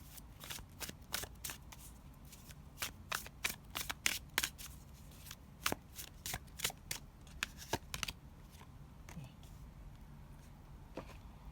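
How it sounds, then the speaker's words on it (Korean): Oracle cards being shuffled by hand, a run of crisp riffling flicks and slaps in irregular bursts, close and fairly quiet, easing off toward the end. "먼저 그럼 오라클 카드를 뽑아 볼게요"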